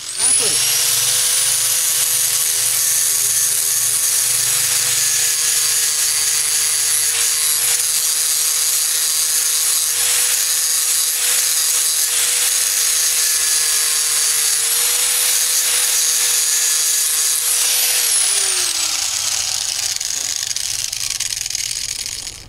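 A lawn mower blade being sharpened with a power grinder in short successive passes, a loud steady high-pitched grinding whine that runs continuously for about eighteen seconds before winding down, with no talking over it.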